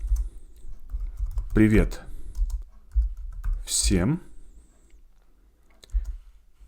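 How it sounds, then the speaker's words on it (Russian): Typing on a computer keyboard, likely on macOS, comes through as quiet, scattered key clicks in the background while someone speaks over them in Russian. "Пишу своей клавиатурой."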